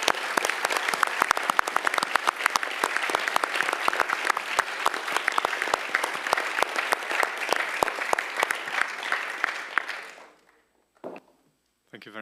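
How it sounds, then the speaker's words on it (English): An audience in a municipal theatre applauds loudly and steadily for about ten seconds, dense clapping that fades out abruptly, followed by a few faint knocks and near silence. "give all of them a round of applause"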